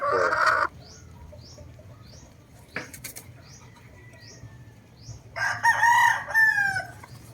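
A Straight Boston breed gamecock rooster crows loudly near the end, after a short earlier crow and a stretch of quieter ambient sounds and faint bird calls.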